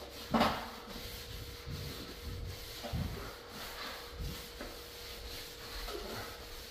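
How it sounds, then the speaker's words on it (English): A plastering float rubs along the wet edges of a ceiling plaster repair on plasterboard, giving soft scraping strokes in an uneven rhythm, close and fairly quiet. "we're going to gently bring these edges in with the float"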